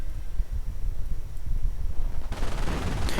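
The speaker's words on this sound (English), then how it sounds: "Mortar rounds against the Grenadiers," Mortar rounds firing in a World War II real-time strategy game, launched against German Grenadier infantry: dense, overlapping low booms and crackling gunfire rumble throughout, swelling into louder, harsher blasts near the end.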